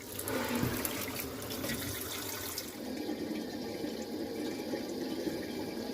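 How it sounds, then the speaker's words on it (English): Cool tap water runs in a kitchen or bathroom sink while Scottish moss balls are rinsed, a steady close splashing stream that turns to a softer, even flow after a few seconds. "So every week I need to take them and run them under the tap."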